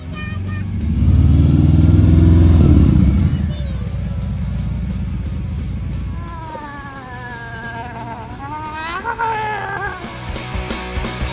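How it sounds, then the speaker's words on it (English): A new motorcycle's engine runs loud and close, a rough low rumble at first that eases to a steadier idle, with some revving and whining tones toward the end. "We got a new bike."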